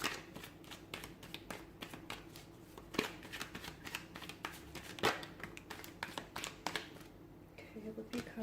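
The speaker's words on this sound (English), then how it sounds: "give the cards a shuffle" Tarot cards are shuffled steadily with rapid riffling and flicking, soft and close, broken by a few sharper snaps.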